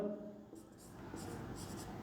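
Marker or chalk scratching across a classroom board during a physics lesson on lenses, a soft continuous scraping heard close and fairly quiet, with no talk over it.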